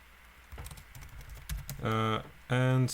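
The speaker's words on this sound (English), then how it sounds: "type it like git clone, and the name of the repository" A git clone command is typed on a computer keyboard as a short run of soft key clicks and taps. Two loud, brief tonal bursts cut in near the end.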